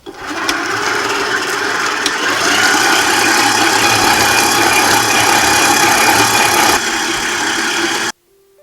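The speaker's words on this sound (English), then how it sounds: "Now that the dough is sticky, we'll knead for 5 minutes." A stand mixer kneads a sticky dough for onion fried bakes, giving a loud, close, continuous motor whir with a rhythmic mechanical chatter. It hums steadily for several seconds, then shifts slightly and stops.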